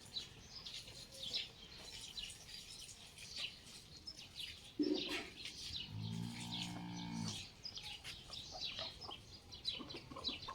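Hens cluck softly among rustling farmyard noise, with one louder low animal call partway through, steady outdoor background throughout.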